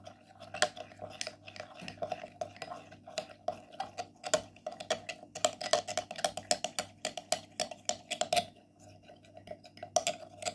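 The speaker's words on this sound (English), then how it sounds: "And mix the ingredients very well" Skin care ingredients with white vinegar mixed in a bowl, quiet, quick clicking and tapping of a utensil against the dish, irregular and close, with brief pauses.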